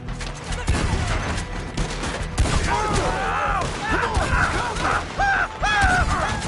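Gunfire in Red Dead Redemption 2 rings out as loud, rapid, overlapping shots in a chaotic firefight, with shouting voices and whooping cries mixed throughout.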